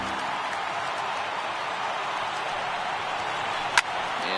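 Steady roar of a stadium crowd of over 39,000 on their feet in a baseball video game, a dense, even wash of cheering noise throughout with one brief sharp click near the end.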